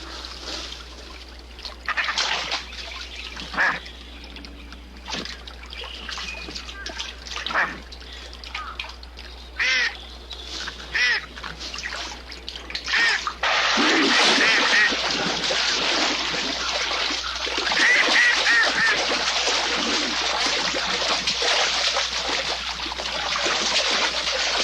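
A wild duck being hunted by a bobcat quacks in scattered bursts over flowing water, and the noise swells midway into continuous splashing and thrashing.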